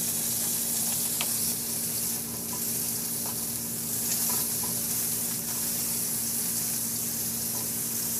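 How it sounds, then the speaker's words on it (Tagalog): Garlic sautéing in a hot frying pan, a steady dense sizzle with constant hiss close up, no voices over it. "Sa disim na kawali, igisa ko na rin yung bawang."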